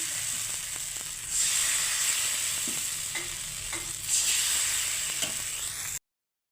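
Rice batter sizzles and hisses in an oil-brushed pan while thin rice pancakes fry, a steady bright frying hiss that swells twice with small scraping clicks, close and without talk, ending abruptly.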